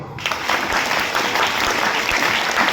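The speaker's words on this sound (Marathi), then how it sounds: "चांगली संगत मॅडम साठी टाळ्या वाजवा" Vigorous audience applause for a teacher at a public gathering, many hands clapping loudly and steadily in a dense, close wash of sound from start to finish.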